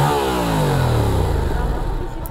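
A 2021 Yamaha MT-07 A2 motorcycle engine revs up with a rising, throaty pitch, close and loud, holding steady at high revs for a couple of seconds.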